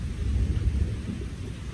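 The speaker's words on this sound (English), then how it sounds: "I feel like lightning just struck right freaking behind me." Thunder from a nearby lightning strike during a rainstorm gives a deep, loud, rolling rumble that lasts the whole moment, with rain faintly underneath.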